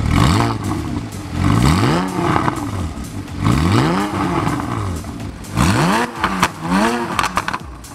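A sports car fitted with an aftermarket exhaust revs repeatedly and loudly, each throttle blip rising and falling in pitch with a crackling, rumbling tone, several revs in quick succession, close up.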